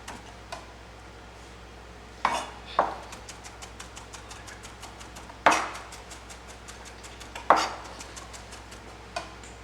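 A knife chops onions very finely on a board for a smooth pâté, a fast steady run of crisp close taps with a few louder accented strikes, no talking over it.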